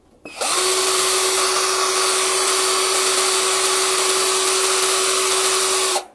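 A 12-volt cordless drill spins at its second speed setting, around 1500 rpm, a steady high-pitched whine that starts abruptly, holds evenly for about five seconds, then stops.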